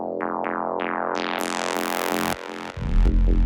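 Electronic synth bass notes in an electro/techno track, repeating plucky tones with decaying tails and delay echoes, then a brighter sustained swell and a deep low note near the end, loud and alone with no talking.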